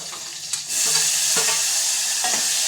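Asafoetida, curry leaves, garlic and tomato tempering in hot oil, a sudden loud hiss bursting in after a brief quiet start and holding a steady close crackle.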